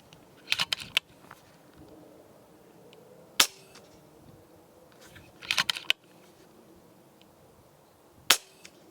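FX DRS Classic 600 .22 FAC air rifle firing from a bag rest, a few sharp, snappy cracks spaced seconds apart, interspersed with quieter mechanical clicks of cocking and handling, no speech.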